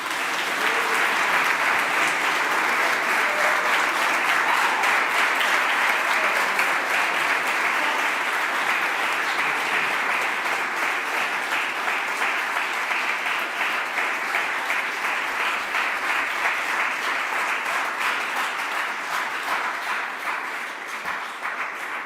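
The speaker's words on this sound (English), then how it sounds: "So one more time, please give a big applause" Sustained audience applause at an outdoor festival stage in Vienna, dense steady clapping from a large crowd that carries on for over twenty seconds, loud and close with no speech over it.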